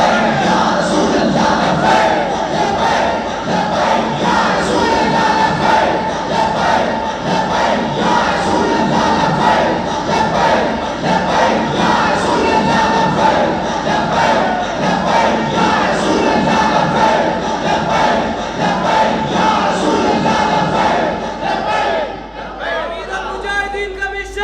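A large crowd at a Mawlid religious gathering chants a slogan in loud unison, a dense sustained roar of many voices that holds for over twenty seconds before dropping away near the end.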